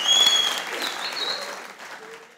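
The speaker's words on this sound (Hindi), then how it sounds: "तालियां बजाओ बेटा" Applause from a studio audience on a Hindi quiz panel show, a steady burst of clapping that starts loud and slowly tapers over a couple of seconds.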